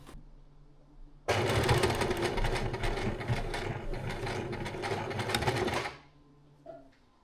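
A sewing machine stitches fabric for a skirt in one steady, loud mechanical run of about five seconds, its rapid needle clatter continuous before stopping abruptly, followed by a few faint handling sounds.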